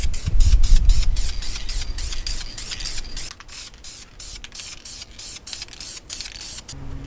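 A spray paint can coats a truck headliner in rapid, loud hissing bursts, with a short pause partway through before the sharp spurts resume.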